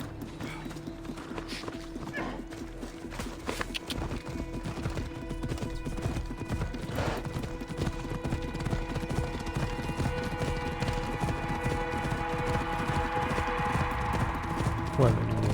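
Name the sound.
horse galloping hooves in video game Assassin's Creed Odyssey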